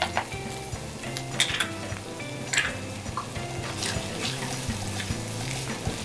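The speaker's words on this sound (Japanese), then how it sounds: "カレー粉を加えたらしっかり炒めていきます。" Ground meat stir-fried with curry powder in a pan for keema curry gives a soft steady sizzle, broken by scraping and clinks of a utensil against the pan.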